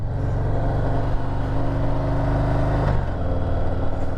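A 2023 Harley Davidson Heritage Classic V-twin rumbles loudly up close, a deep throbbing engine note that rises in pitch and dips again near the end.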